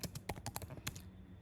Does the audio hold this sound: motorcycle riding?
no